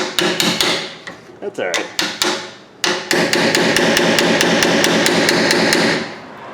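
A hammer repeatedly strikes the metal end of a screwdriver while working on a Dodge Dakota rear brake, sharp loud metallic blows in a steady rhythm, with a brief spoken remark between hits.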